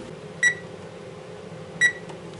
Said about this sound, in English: first we need to heat up the oven to 350